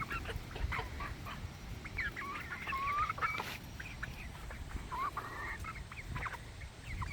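Young ten-week-old Americana chickens calling, a series of faint high chirps and short trilling peeps against a quiet outdoor background.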